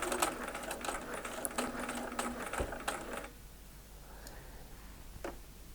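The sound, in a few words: sewing machine stitching a Y seam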